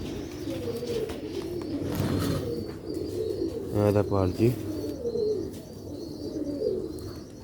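Sialkoti black-faced pigeons and their young coo in a loft, with soft, low, rolling coos rising to a clear throaty burst near the middle, while someone talks over them.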